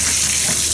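Water rushes from a shower head in a 1960s budget motel bathroom, a loud steady broadband hiss of running water filling the whole moment, close and unbroken, with no voices.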